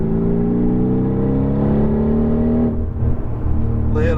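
A Mercedes-AMG GT R engine on a race track rises loudly and steadily under throttle, a dense climbing drone that dips briefly near the end before picking up again, heard from close inside the car without talk.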